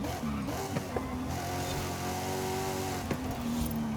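Racing engine of a GMC Typhoon truck in Forza Horizon 5, a steady loud drone with shifting harmonic pitch as it accelerates through gear changes, continuous and close throughout.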